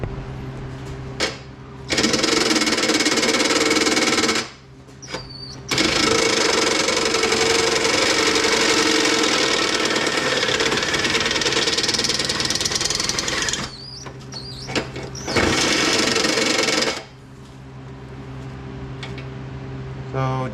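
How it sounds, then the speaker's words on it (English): A step drill bit bores out holes in metal for threaded bungs on a custom TRX450R swingarm, close and loud: a long, steady grinding whine in several sustained runs, broken by short pauses. "So now I'm going to take my step bit and drill those out until these threaded bungs fit in there."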